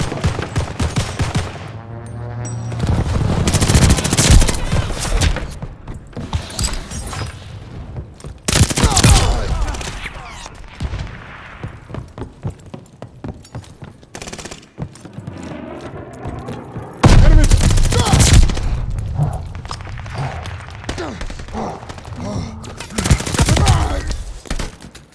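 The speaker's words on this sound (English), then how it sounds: "Let's strafe in your area!" An aircraft strafing run in Call of Duty: Vanguard, with heavy machine-gun bursts and thumping impacts that come in loud, dense waves and brief lulls over about 25 seconds.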